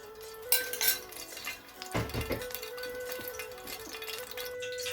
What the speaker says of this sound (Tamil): இப்போ திரும்பவும் அதே சட்டியை அடுப்பில் வச்சுருக்கிறேன் இதுக்குள்ள ஒரு மூன்று மேசக்கரண்டி அளவு எண்ணெய் விடுறேன்